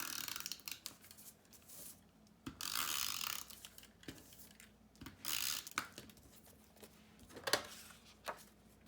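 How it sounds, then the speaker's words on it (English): A snail adhesive tape runner is rolled around the corners of a card panel in a quiet room, making faint scratchy clicks and short rubbing bursts at irregular intervals. "I'm going to use the snail adhesive. I'm gonna go around all the corners."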